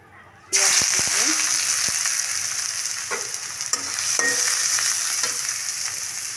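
Chopped garlic drops into hot oil in a wok and bursts into a loud, sustained sizzle, with a few light stirring clinks over the steady frying hiss.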